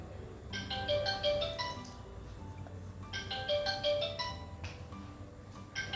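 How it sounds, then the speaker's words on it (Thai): A telephone ringtone plays a bright repeating electronic melody in two phrases, breaking in over a televised volleyball match with its crowd and court noise in the background. "มีเสียงโทรศัพท์แทรกเข้ามานะ"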